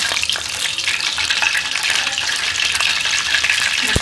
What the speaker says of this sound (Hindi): इसको रोल को इसके अंदर डिप करके इसमें फ्राई करें